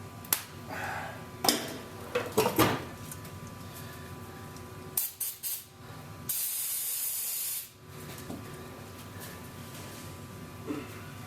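An aerosol can of throttle body cleaner sprays in several short bursts, then one longer steady hiss, close by in a quiet workshop with faint knocks and handling sounds between.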